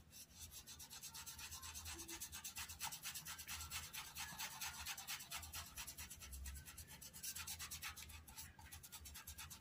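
A brush shades paint onto fabric in steady, rhythmic back-and-forth rubbing strokes, close and quiet, with no voices over it.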